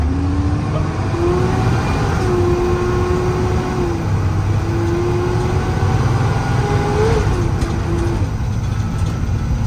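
A 2019 Kenworth T270 service truck with a PX7 engine and 11-foot service bed drives through a tight turn, its engine a steady loud drone with a slowly wavering pitch throughout and no talk.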